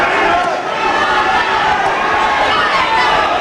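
A big boxing arena crowd during a British bout roars and cheers in a continuous loud wall of noise, with a commentator's voice running over it.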